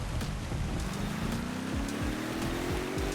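Steady simulated rain hisses continuously in a truck driving game, while a low engine drone rises gradually beneath it.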